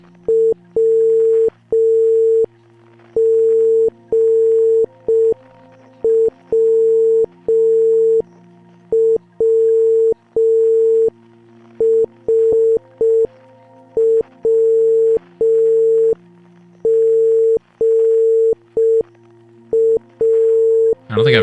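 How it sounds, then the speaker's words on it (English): Morse code signal blips in the video game Outer Wilds, a loud pure tone pulsing on and off in a long sequence of short and long blips with brief gaps, near and clear. "2 short blips is the start of the message"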